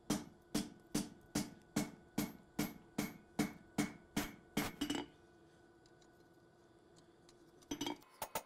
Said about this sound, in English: Now I'll start really forging at a lower heat.